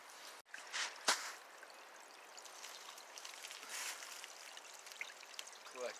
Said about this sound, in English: Collecting this fresh, cold mountain spring water right where it comes out of the earth.